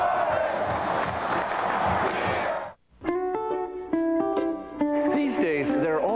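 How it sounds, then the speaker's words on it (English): A crowd roars and cheers loudly at a national championship celebration for the Florida State football team, a dense burst of voices before a brief drop into bright synthesized music. "To the roar of the crowd"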